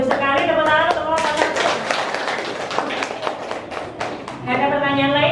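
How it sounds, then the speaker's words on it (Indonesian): Classroom clapping for a student group, dense claps spread through the middle under a voice that talks at the start and end. "Tepuk tangan untuk kelompok"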